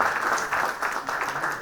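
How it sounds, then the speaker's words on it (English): Audience at a committee launch event clapping for an honored guest, a short burst of dense, even applause from a roomful of people, moderately loud. "can we have a huge round of applause for the gentleman"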